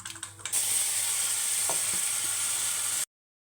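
Tempering seeds and ground gongura drop into hot oil with a sudden loud, bright sizzle that holds steady for a few seconds before cutting off.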